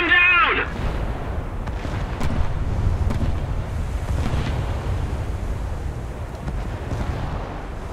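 Naval guns aimed at a Cleveland-class cruiser in a naval warfare video game fire in a heavy rumbling boom, followed by a long, low roar like surf and distant explosions, with voices talking over it.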